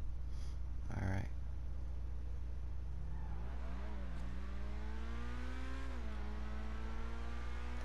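A Furia supercar in the video game GTA 5 accelerating hard, its engine note climbing steeply through gear changes, loud and close, after a brief spoken remark at the start.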